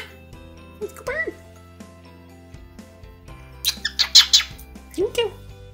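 A pet cockatiel squawks in a few bright bursts near the end, after scattered chirps, with soft indoor room tone and an owner speaking around the calls.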